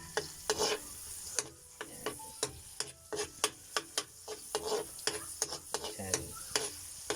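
Garlic, onion and aromatics sizzle softly in a pan for ginisang mongo while a utensil scrapes and stirs in quick irregular strokes, the frying hiss steady beneath the clatter.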